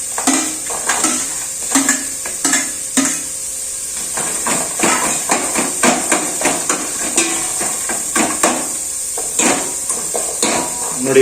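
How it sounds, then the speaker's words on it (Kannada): Onions frying in a little cooking oil in a pot on a gas stove, a soft steady hiss under repeated sharp clinks and scrapes of a utensil against the pan. "ನೋಡಿ, ಇವಾಗ ಗ್ಯಾಸ್ ಸ್ಟವ್ ಮೇಲೆ ಪಾತ್ರೆ ಇಟ್ಕೊಂಡು ಪಾತ್ರೆಗೆ ಒಂದು ಸ್ವಲ್ಪ ಅಡಿಗೆ ಎಣ್ಣೆ ಹಾಕೊಂಡು ಇವಾಗ ಈರುಳ್ಳಿನ ಫ್ರೈ ಮಾಡ್ಕೋತಾ ಇದ್ದಾರೆ"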